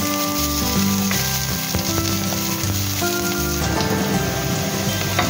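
Onions hit hot oil in a frying pan, giving a loud, continuous close crackle and hiss that runs evenly with no pauses; a steady tonal hum also sits underneath.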